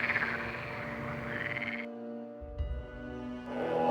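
Frogs croak in a dense, continuous chorus representing the biblical plague of frogs. The repeated rasping calls overlap, drop away briefly midway and then swell back in loudly.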